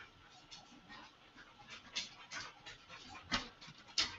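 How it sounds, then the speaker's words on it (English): A dog breathing heavily nearby in a home office, quick rhythmic panting with occasional whimpering bursts, faint and soft in the background. "that's my dog breathing like a crazy wild animal in the background."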